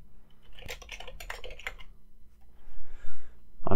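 Rapid clicking keystrokes on a small computer keyboard, close and moderately loud for the first two seconds, then quieter, ending in a few louder knocks.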